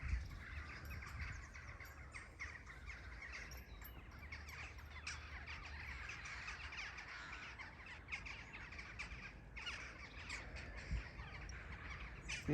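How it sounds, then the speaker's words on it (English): Crows cawing as they mob a buzzard over the headwaters of the River Mole, faint distant calls scattered over steady outdoor ambience and wind. "Being mobbed by crows."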